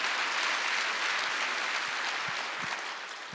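A church congregation at a Wednesday service applauds in a dense, even wash of clapping that fades slightly toward the end, with no talk over it.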